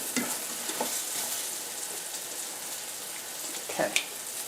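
Eggplant slices frying in a pan on a stovetop at about medium heat give off a steady, quiet sizzle, with a few faint clinks and scrapes of turning partway through and no talking.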